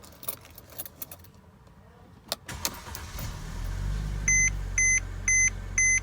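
Clicks and jangling keys come first, then the engine of a Mercedes-Benz C-Class W204 cranks and settles into a low, steady idle. Sharp chimes beep four times on a regular beat over the running engine.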